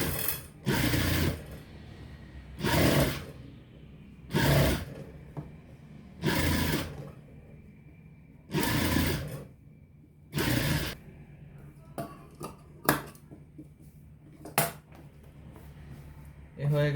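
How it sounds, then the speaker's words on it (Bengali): A sewing machine stitches a dress sleeve in short repeated bursts, each run of rapid whirring lasting about a second with pauses between, plus faint handling clicks later; soft talking occurs in the background. "ঠিক এভাবে রেখে এক চাপ রেখে সেলাই করে দিব।"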